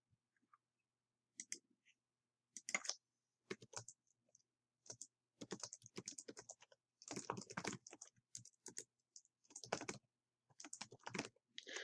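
Someone types on a computer keyboard in quick, irregular bursts of key clicks with short pauses between them, close and fairly quiet.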